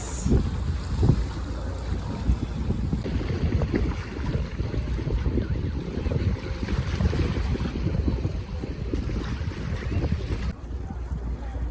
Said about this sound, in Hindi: और पानी की आवाज़।